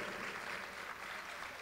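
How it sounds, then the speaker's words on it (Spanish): Audience applause at a national unpublished-song contest honoring a new song and its authors, soft, distant and steady, a diffuse wash of clapping held throughout. "Acompañamos este momento con un muy cariñoso aplauso para esta obra y estos autores"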